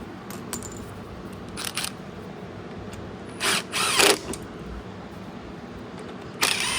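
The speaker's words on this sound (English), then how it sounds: "And these two self-tappers go into the plastic of the carburetor." Short whirring bursts of a power drill driving self-tapping screws into the plastic carburetor of a Troy-Bilt TB110, several brief spins spaced apart over a quiet, slightly noisy background with small mechanical clicks.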